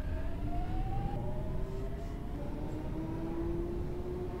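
A 1999 Jubilee Line train pulls away in the OpenBVE simulator, its traction motors whining in a steady, rising hum over a constant low rumble, alone without talk.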